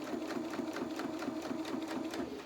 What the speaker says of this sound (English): because your sewing machine can only